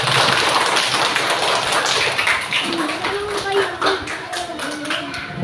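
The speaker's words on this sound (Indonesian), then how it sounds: "tepuk tangan untuk kelompok 1" Classroom applause for a student group, a dense steady patter of many hands clapping at close range throughout, with a voice rising faintly over it toward the end.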